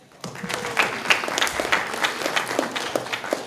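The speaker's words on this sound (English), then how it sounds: "Give your applause to batik" A university audience at a KAIST international event applauds during a presentation on Indonesian batik; a burst of many hands clapping starts abruptly and continues at a lively, fairly close level.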